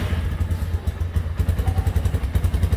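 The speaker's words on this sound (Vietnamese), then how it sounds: "Rồi đâu em nổ máy thử ra cho anh em nghe luôn." A GPX Legend 200c motorcycle engine runs close by at idle, giving a loud, steady low thumping pulse with mechanical clatter and no talk over it.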